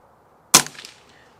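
A single sharp crack from a BRK Ghost air rifle fired at a target 50 yards away, loud and close, followed by a brief ringing tail and faint echo before quiet returns.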